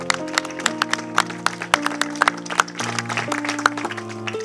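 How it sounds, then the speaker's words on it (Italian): Audience applause at an outdoor cinema evening in a villa in Bagheria, scattered sharp claps layered over sustained music with steady tones, moderately loud and close. "gli facciamo un applauso."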